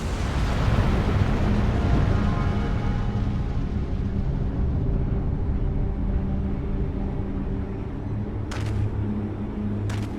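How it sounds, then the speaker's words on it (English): A deep, roaring explosion in Final Fantasy XIV: Dawntrail rumbles loudly and slowly fades over several seconds, with two sharp crackling snaps near the end. "Okay, this isn't a normal explosion."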